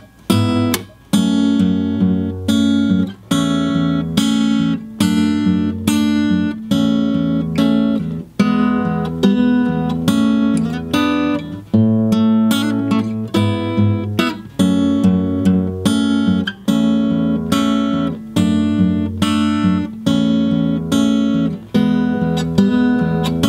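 Acoustic guitar playing the instrumental section of a song, a steady fingerpicked pattern of bass notes and ringing chords, close and clear, running continuously with no voice.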